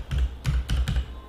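Keys clacking on a computer keyboard, four distinct close presses in quick uneven rhythm, crisp and alone with no voices.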